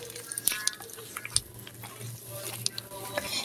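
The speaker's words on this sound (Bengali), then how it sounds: "আমি এখন ভালো করে সবগুলো মিশিয়ে নিচ্ছি।" Flour, boiled potato and an egg are mashed and mixed together by hand in a bowl, making soft squelching, slapping and tapping sounds in an uneven rhythm, close and fairly quiet, with no talking.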